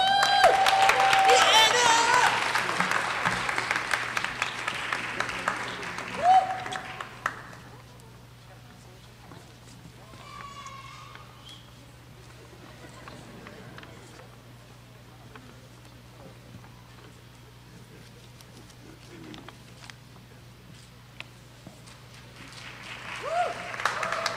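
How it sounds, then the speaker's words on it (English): Audience applause at a fall honors ceremony, loud sustained clapping for the first several seconds before fading into quieter room sound with scattered noises, then rising again near the end. "A round of applause, another round of applause, please, for students from Performing and Fine Arts."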